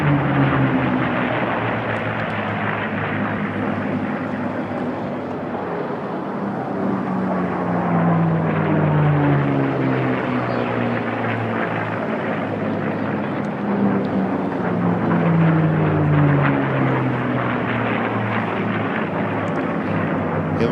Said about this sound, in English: Sweet sound of the Packard-built Merlin engine.